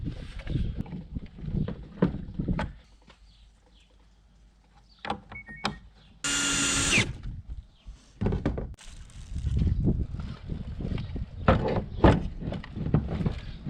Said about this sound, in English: I'm gonna go ahead and take these two bolts out, nuts, screws out